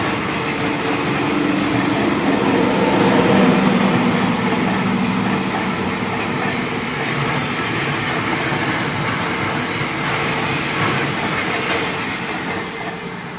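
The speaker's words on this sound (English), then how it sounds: "As you can hear, there's a train going past." A train rumbles steadily past nearby, a loud continuous roar with faint rattling that lasts throughout and fades slightly at the end.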